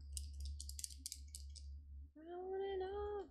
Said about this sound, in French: Les chats sont en train de se battre.